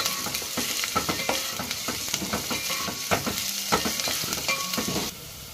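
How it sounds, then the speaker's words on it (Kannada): Finely chopped onion fries in hot oil for a fish curry, giving a steady loud sizzle broken by frequent sharp scrapes and clinks of a spoon stirring the pan, until the sizzle drops away near the end. "ಎಣ್ಣೆ ಕಾದಿದೆ. ಸಣ್ಣ ಕಟ್ ಮಾಡಿರೋ ಈರುಳ್ಳಿ ಒಂದು ಅರ್ಧ, ಈರುಳ್ಳಿ ಚೆನ್ನಾಗಿ ಫ್ರೈ ಆಗಲಿ."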